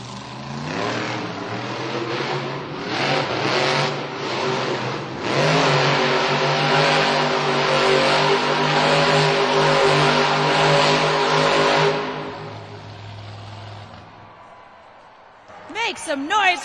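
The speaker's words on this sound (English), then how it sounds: "Make some noise for Devin Winfield, kicking off this donut competition pretty strong." A monster truck engine roars and revs hard through an arena donut competition, the loud sustained snarl rising and falling as the truck spins, with a crowd and announcer audible underneath before it dies down.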